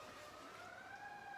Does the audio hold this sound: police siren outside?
yes